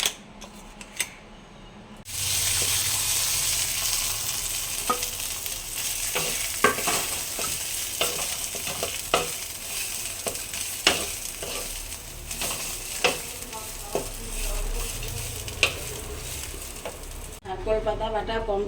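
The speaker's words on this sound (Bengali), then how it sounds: "এবার এটাকে একটু সামান্য তেলে নেড়ে নেব।" Kharkol leaf paste stirred and fried in a little oil, with a steady sizzle and repeated sharp scraping and tapping of a spatula against the pan, close and continuous for about fifteen seconds with no talking.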